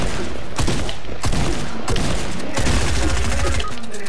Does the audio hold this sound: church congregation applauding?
no